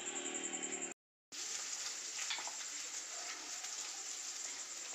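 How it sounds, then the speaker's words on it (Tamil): Grated coconut roasting in ghee for susiyam filling, a continuous faint hiss and sizzle heard up close, broken by a brief silent gap near the start. "நெய் விட்டுட்டு முதல்ல தேங்காயை வறுத்துக்கலாம்"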